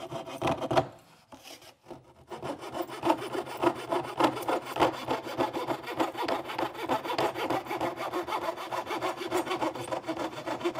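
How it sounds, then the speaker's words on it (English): A coping saw cuts through wooden baseboard moulding at a workbench, its close, steady back-and-forth rasping strokes continuing after a brief pause near the start. "use a coping saw to remove the remainder of that moulding on this piece of baseboard"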